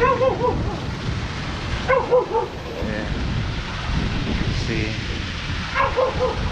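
A dog barking outdoors near a tree on the way to a beach, several short bark bursts spaced across the moment, mid-distance, with wind noise on the microphone and a person speaking briefly.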